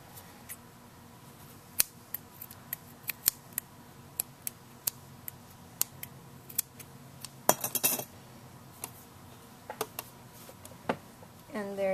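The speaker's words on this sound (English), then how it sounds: "Cut my two ends off." Scissors snipping the yarn ends off a crocheted leaf for a rose, a series of sharp, close metallic clicks spaced irregularly across a quiet room, with a brief rustle of handling near the middle.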